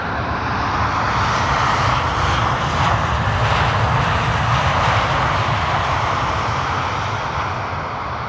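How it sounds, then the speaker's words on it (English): A KLM Airbus A321neo jet arriving at Amsterdam Schiphol makes a steady, loud, broadband engine roar that holds evenly throughout, with no speech over it. "KLM flight 1170 arriving from Bergen. Fax A, the first of the A321neos."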